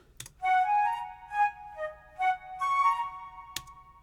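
Flute layered into a smooth jazz song, a short melodic phrase of sustained and gliding notes in clear detached bursts, close and fairly quiet, with a faint tap at the start and near the end.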